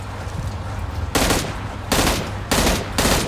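M16 rifle fitted with a muzzle brake fires in PUBG, three loud sharp bursts of rapid shots spaced about a second apart over steady game ambience.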